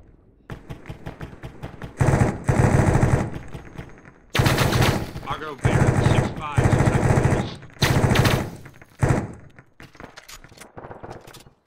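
Sustained machine gun bursts in the military video game Arma 3, loud and close, firing in several long volleys separated by short pauses, with scattered single shots between.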